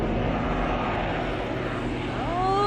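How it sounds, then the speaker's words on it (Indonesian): A video game airplane takes off with a loud, steady propeller-engine drone that holds throughout, closing with a rising whine. "pesawat sudah mulai take off"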